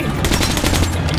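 A loud, close burst of rapid automatic gunfire in Metro 2033 Redux, a fast steady stream of shots with no talking.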